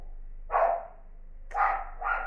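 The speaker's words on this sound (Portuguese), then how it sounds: "Do vizinho latindo no meu vídeo." A neighbour's dog barks three times at a distance, short separate barks in an otherwise quiet room.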